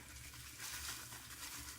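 Lye granules are poured into a bag on a scale while measuring for honey cold process soap, producing a faint, continuous rattling trickle close to the microphone with no talking.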